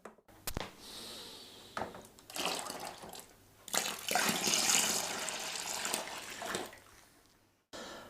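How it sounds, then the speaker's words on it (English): Cold water pours steadily into a home-brew beer kit container being topped up to 23 litres, in several runs, a hissing gush that swells and pauses, nearby and fairly loud, with a few clunks between. "I'm just adding the last of the cold water, bringing that up to 23 litres, which is about 40 pints."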